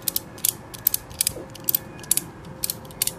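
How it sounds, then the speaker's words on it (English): A slackline ratchet lever being tightened clicks in a steady series of sharp, close metallic ratchet ticks, roughly two to three per second, alone without talk. "You push the lever in to get it into the tightening position."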